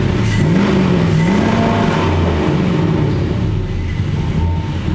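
A 2003 Chevy 4.8 LS V8 with 84K miles runs on a test stand, a loud steady idle with a brief rising rev early on, close up and with no talk.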